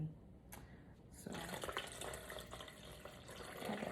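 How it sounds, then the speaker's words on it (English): Coconut water is poured into a detox drink, starting with a few faint taps and then a steady liquid gurgle and splash that runs on at close range. "add that coconut water"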